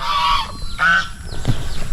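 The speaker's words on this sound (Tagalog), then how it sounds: "itong gansa yung nag-iingay, nagsisigaw." Loud, close goose honks repeat in quick succession on a small farm, harsh nasal calls overlapping one another with no talking.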